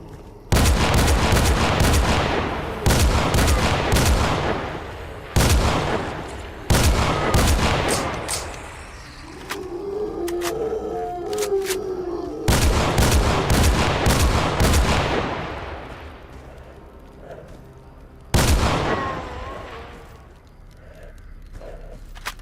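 Guns fire at a pack of zombies in Stalker Anomaly, loud close bursts of rapid shots with echoing tails, separated by brief pauses and quieter stretches, then one more burst.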